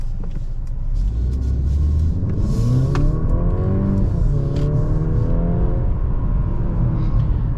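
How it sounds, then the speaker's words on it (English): A 2022 Mercedes C-Class in sport mode accelerates hard from inside the cabin. The engine note rises through one gear, shifts and climbs again under a steady low rumble, with no talk. "let's go ahead and put the car in sport mode, and let's do an acceleration right here"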